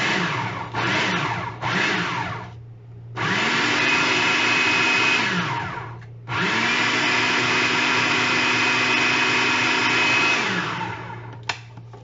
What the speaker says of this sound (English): cover your food processor, and press. And just pulse it till it mixes